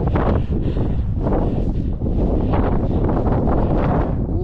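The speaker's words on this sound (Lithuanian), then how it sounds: "Biški vėjas yra toksai, nelabai eina paskraidyti normaliai" Strong wind buffets the microphone outdoors on a hike in Mourne Park and Knockchree, Northern Ireland, as a loud, continuous rumble that surges and eases in gusts, with no voices.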